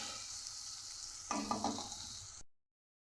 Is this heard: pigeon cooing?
no